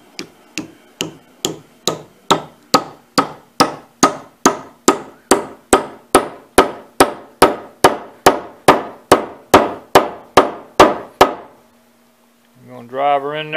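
A hammer drives a wooden wedge into a tool handle with about two dozen sharp, evenly spaced blows. The strikes are loud and close, then stop, and a brief voice follows.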